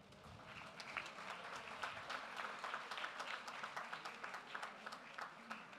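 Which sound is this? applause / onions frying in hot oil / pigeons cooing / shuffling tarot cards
applause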